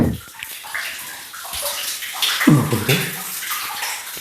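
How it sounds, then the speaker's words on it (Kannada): Holy spring water flows and splashes inside a cave at Savanalu tirtha, a steady close wash of running water that swells into a louder gush midway, with no talk over it. "ಇಲ್ಲಿ ಅಭಿವೃದ್ಧಿಯಾಗಿ ಹರಿಯುವಂತಹ ತೀರ್ಥವನ್ನು ನೀವು ನೋಡ್ಬೋದು"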